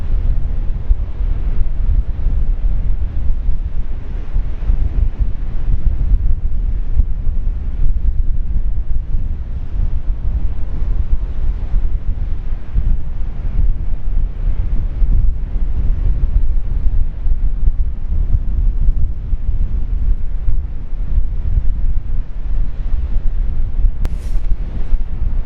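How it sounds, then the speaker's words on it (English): Strong wind buffets the microphone out on the open water during a boat ride in blustery conditions, a loud, constant low roar lasting throughout with faint wave wash beneath and no talking. "there's a little bit more wind than what we anticipated"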